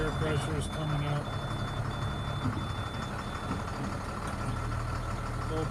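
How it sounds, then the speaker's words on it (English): Diesel engine of a 2005 Altec AA600L utility truck running steadily at idle nearby, a continuous low rumble with a reversing-style beep repeating faintly throughout. "we'll just look at the engine a little bit while it's running"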